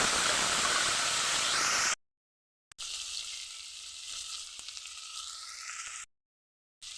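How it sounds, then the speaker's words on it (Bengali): Washed potato and tomato frying in a pan make a loud, close hiss of sizzling oil that cuts off abruptly twice into silence before resuming. No one speaks. "এখন আমি আলুটা টমেটোটা ধুয়ে নিয়েছিলাম, এখন আমি এটা এর ভিতরে দিয়ে একটুখানি ভেজে নেব"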